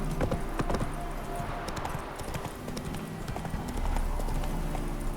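Roach, the horse from The Witcher video game, clip-clops along with steady hoofbeats, close and fairly loud, over a busy game soundscape with a faint voice in the background.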